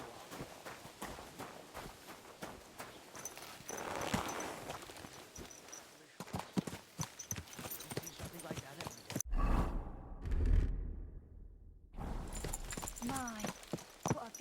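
Horse hooves clip-clopping in the medieval video game Kingdom Come Deliverance 2, a steady rhythmic patter of hoofbeats on a path, moderately close, briefly broken by a sharp whoosh, with voices talking over parts of it.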